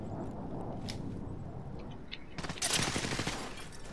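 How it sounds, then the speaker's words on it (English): Video game gunfire in a battle royale match, a dense rapid burst of shots breaking out loud and close after a stretch of quieter low rumble and scattered pops. "I'm getting shot though."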